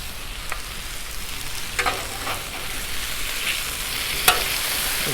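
Potatoes fry on a Blackstone griddle, a steady, even sizzle with a few faint pops and scrapes, heard close up with no talking.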